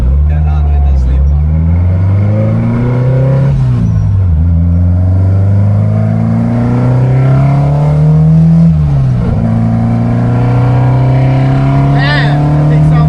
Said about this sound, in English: Man, that thing sounds so good,